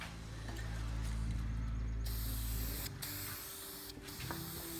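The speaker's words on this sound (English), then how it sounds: "I'm going to actually just clear over these welds because I think exposed welds look pretty cool" A spray can lays clear coat over the welds of a scrap-metal car roof rack, with a loud continuous hiss interrupted by two brief pauses in spraying, close and alone.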